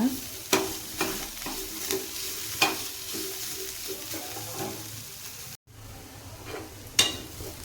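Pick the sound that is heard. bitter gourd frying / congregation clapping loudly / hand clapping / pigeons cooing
bitter gourd frying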